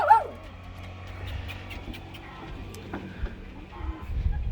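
A small dog yips and whimpers indoors at a home for sale in Panama City Beach, with brief high cries near the start and low background noise afterward.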